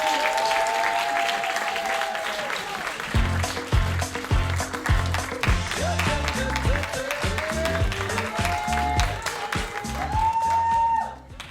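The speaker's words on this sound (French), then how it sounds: "Sous vos applaudissements nourris, amis du public." Audience applause at a live slam or spoken-word tournament, loud and sustained clapping from the crowd, with music playing underneath and a voice or tones rising over it.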